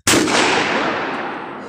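A lever-action rifle fires a single sharp, loud report close by, followed by a long decaying echo and no talking.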